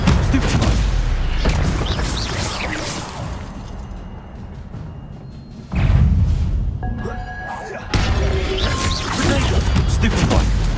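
Spell impacts from the Stupefy stunning charm in Hogwarts Legacy, loud booming whacks and crashes amid dense game effects, with a sharp burst near the middle and another hit later, over continuous background game sound.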